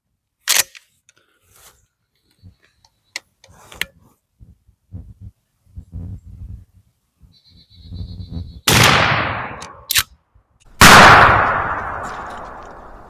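A 12-gauge shotgun loaded with Federal Powershok 00 buckshot in 2.75-inch shells fires two loud, sharp blasts close by, each with a decaying tail, after quiet handling clicks and rustles.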